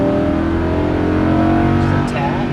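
A Lamborghini Huracan LP610-4 on a track at full throttle, its engine roaring loud and close with a rising, sustained howl while an instructor speaks over it.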